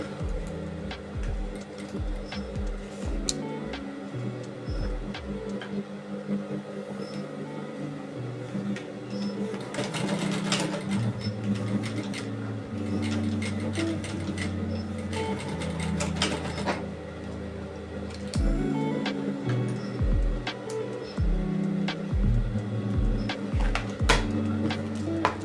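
A sewing machine top stitching fabric for a cellphone bag at a 5mm stitch length, running in close, rapid mechanical bursts with short pauses between stretches of stitching.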